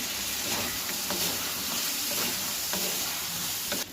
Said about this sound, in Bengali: এবার আমি পটলগুলো দিয়ে দেবো, ভালো করে কষিয়ে নেবো।